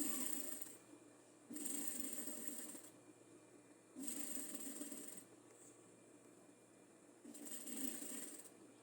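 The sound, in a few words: sewing machine stitching a sleeve seam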